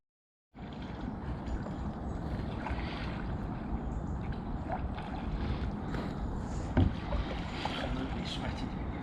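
A rowing boat with no anchor rowed on a lake, steady low splashing and creaking oar strokes with wind noise throughout and occasional voices in the background.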